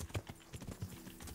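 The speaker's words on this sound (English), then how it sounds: "Horses?" Rhythmic clip-clop of horse hooves trotting at a steady pace in a video game, moderately loud with a hollow, slightly synthetic tone.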